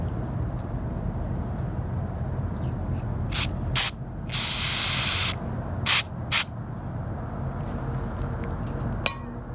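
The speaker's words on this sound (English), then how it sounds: "let's go ahead and spray the sensor" Aerosol cleaner sprayed onto the sensor of a Toyota Corolla 1.8 engine, giving several short hissing bursts and one longer steady spray over a low background rumble, close by.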